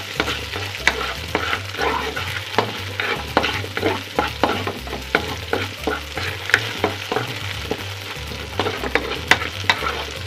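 Red and white onions sizzle steadily in a hot pan while a spoon stirs them, producing frequent scraping clacks over a constant frying hiss, up close with no talk.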